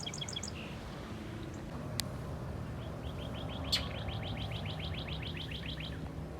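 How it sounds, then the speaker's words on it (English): Bird song outdoors: a cardinal-like series of repeated clear whistled notes, moderately distant, over steady low background hum, with a couple of sharp chirps. "I hear a cardinal."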